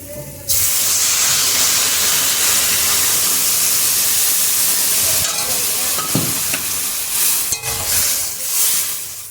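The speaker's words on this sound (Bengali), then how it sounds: "এবারে জল ঢেলে দেবো।" Water poured into a hot cooking pan erupts in a loud, steady sizzling hiss of steam that starts abruptly and continues throughout, with occasional stirring clatter and faint bubbling underneath.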